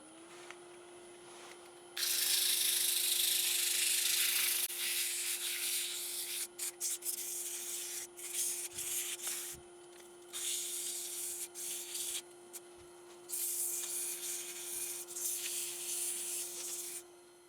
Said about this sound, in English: It's going to use a little 150 grit up to 320 grit just to finish it off on the surface.